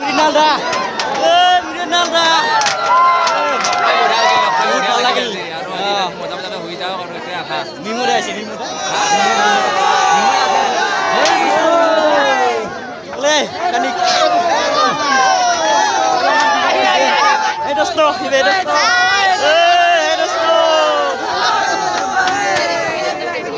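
A large crowd chatters and shouts at a YouTube meetup in Bongaigaon, with many overlapping voices, including children, forming a loud continuous babble throughout.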